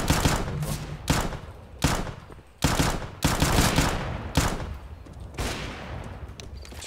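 Shotgun blasts in a video game, a series of loud, heavy booms spaced roughly a second apart, each with a short decaying tail, firing close by with no talking in between.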